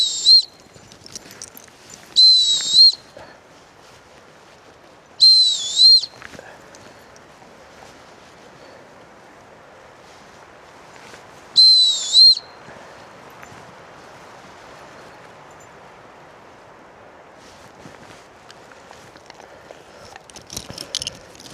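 Three short two-tone gundog training whistle blasts, sharp and clear, separated by pauses, with quiet rustling background between them.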